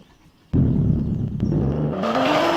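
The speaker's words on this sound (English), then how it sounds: "here we have the new Toyota Supra, sort of the Toyota GT86" A Toyota Supra in Garry's Mod starts up with a sudden burst of engine noise, then revs higher and rises in pitch toward the end of the short run.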